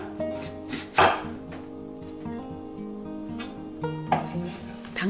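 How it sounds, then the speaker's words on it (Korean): Half an onion is sliced into thin strips in a home kitchen. A knife taps the board in light, uneven chops, mixed with the clink of dishes and utensils, close and fairly quiet, with no talking. "이제 양파를 반 개만 그 채를 썰어 둡니다."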